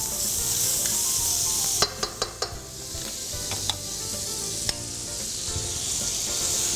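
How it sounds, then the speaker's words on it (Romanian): Sugar caramelizing in a hot pan while making fried cozonac with mascarpone and strawberries: a steady loud sizzle with a few sharp utensil clicks against the pan. "Facem caramel cu zahărul."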